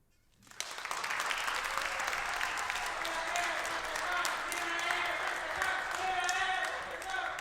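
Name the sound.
audience applause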